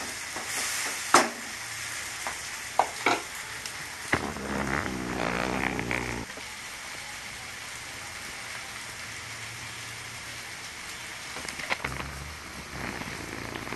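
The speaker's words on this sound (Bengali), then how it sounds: "এবার আমি চিংড়ি মাছটা দিয়ে নাড়াচাড়া করবো" Prawns and raw jackfruit are stirred together in a frying pan, a steady rain-like sizzle broken by sharp spatula clicks and scrapes, with no voices.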